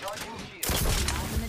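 Gunfire in a video game breaks out suddenly as a loud, dense burst of rapid shots, harsh and close, following a brief quieter stretch.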